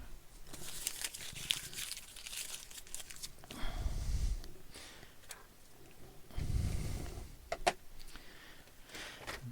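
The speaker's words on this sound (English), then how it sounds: "That's a bit of tape." A strip of tape is torn and crinkled while handling cables and parts on a workbench, giving close rustling bursts and a couple of louder ripping crunches with no talk.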